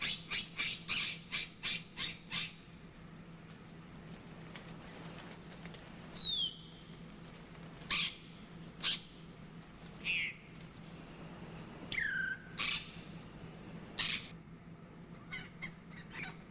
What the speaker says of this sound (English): From a hide, the trapper uses tame call birds to attract the wild parrots.